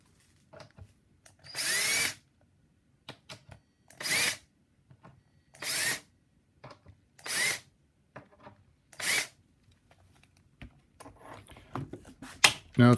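Power drill boring through wood and into metal, five separate loud bursts of whirring with short pauses between, then lighter tool handling and clatter near the end.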